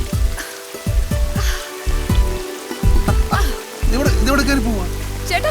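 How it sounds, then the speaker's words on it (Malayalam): Heavy rain pours down in a Malayalam comedy film scene, a steady hiss of falling water running under rhythmic low thumps, with a voice heard briefly. "ഈ മഴ മാറുന്ന ഒരു ലക്ഷണവും ഇല്ല"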